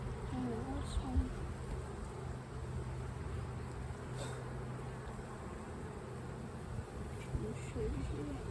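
Bees buzz steadily around a beehive during hands-on beekeeping, a continuous close insect hum with a faint drone running throughout, while people talk quietly nearby.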